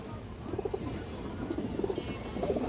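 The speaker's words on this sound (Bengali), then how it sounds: "এই দেখেন অনেক সুন্দর একটা মাদি কবুতর" A female Jiragola pigeon coos in short, soft bursts, with three clusters of low murmuring calls spread over a few seconds against a faint background hiss.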